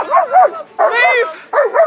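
A police dog barks close up during a chase after a suspect, giving three loud, sharp, yelping barks in quick succession.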